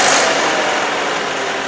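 Vauxhall Corsa D 1.4 engine idling with a timing chain rattle, a close, loud, steady mechanical hum and clatter running throughout.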